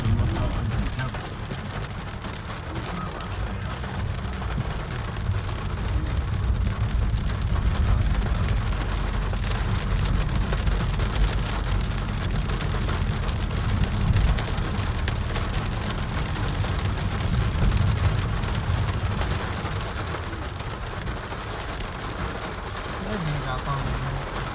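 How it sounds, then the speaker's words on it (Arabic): Steady rain falls in Cyprus, a dense continuous patter on surfaces with a low rumbling hiss underneath, holding fairly even throughout with no talk standing out. "ما شاء الله عندك المطر"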